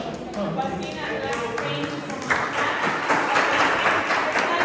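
Applause from a crowd at a tenant association meeting, a dense wash of clapping that swells louder midway, with voices talking over it throughout.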